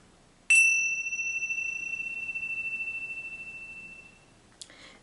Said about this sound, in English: I'll ring the bells at the start and the end